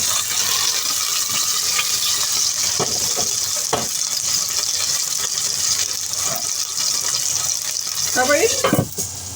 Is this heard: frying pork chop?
yes